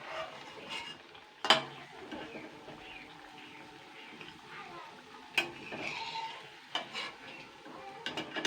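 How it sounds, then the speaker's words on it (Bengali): Battered banana flower fritters fry two at a time with a faint, steady sizzle, while sharp utensil clinks and scrapes against the pan come at intervals close by. "এই দুটো দুটো করে আমি ভেজে ভেজে তুলবো।"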